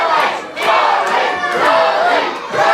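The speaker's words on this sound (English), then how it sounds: "You can hear this crowd fully behind Joey Scott" Wrestling crowd at an LDN Wrestling British Championship retirement bout roars loudly and continuously, with swelling cheers and chanting voices filling the whole stretch.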